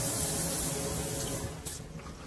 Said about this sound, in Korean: 찬물도 잘 나오고